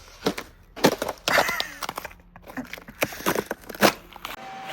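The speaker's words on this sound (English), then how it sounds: "Does anyone else love breaking ice?" Ice broken outdoors beside a workshop, a run of sharp cracks and crunching snaps in irregular bursts, close and fairly loud, with brief quiet gaps between the breaks.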